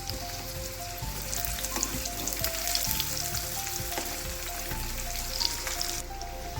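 Mirchi bajji, chillies in batter, deep frying in oil with a constant dense crackle and bubbling, close by, with occasional soft knocks as the pieces are turned one by one.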